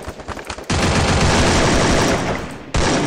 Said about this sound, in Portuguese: AK você tem que tentar matar o cara nos três primeiros tiros.